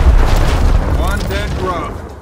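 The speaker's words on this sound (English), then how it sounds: "Throwing frag!" Frag grenade explodes in Gears Tactics, a deep booming blast that rolls off into a fading rumble, with faint chirping effects in the tail.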